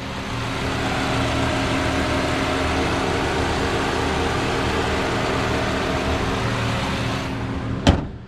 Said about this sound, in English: I'm still finding it hard to believe that this car is running as well as it is